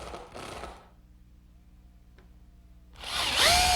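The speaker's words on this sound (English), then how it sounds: "I'm just bolting them together with some 6-inch lag screws." Power drill driving 6-inch lag screws into wooden posts for a garden gate, a loud close whirring burst at the start, a quiet pause, then a second louder drilling run toward the end.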